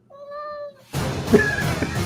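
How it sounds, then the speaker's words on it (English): A cat gives one clear, drawn-out meow up close, followed by a burst of noisy background sound. "Why do you have a cat?"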